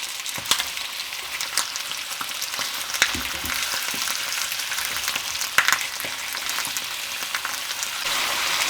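Chicken browning in a frying pan for chicken adobo, a dense, loud, hissing sizzle with scattered pops and occasional utensil knocks, close and continuous.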